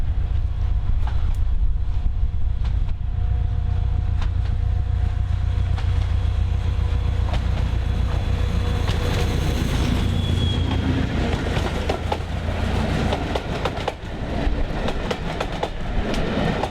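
A Class 73 diesel locomotive, number 001, heads a northbound shuttle train at a heritage railway diesel gala, its steady low engine rumble and clattering wheels continuous and close throughout, with faint squeals near the end.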